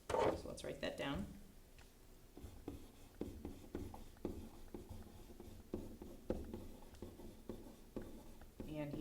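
Pen or marker writing notes on a board or paper, a steady run of short scratchy strokes in an irregular rhythm, fairly close, with a brief voice at the very start.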